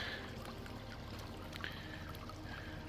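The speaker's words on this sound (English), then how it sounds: "We got some running water, getting very rocky" Running water over rocks on a trail at night in Vermont, a steady trickling and pouring wash close by, continuous and moderately loud with no talk.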